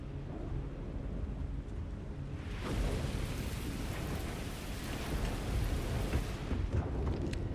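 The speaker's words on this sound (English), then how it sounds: "Alright, I ran out into the rain." Steady rain and rolling thunder in the video game Starfield, a dense, low, continuous wash that swells slightly partway through, with no talk over it.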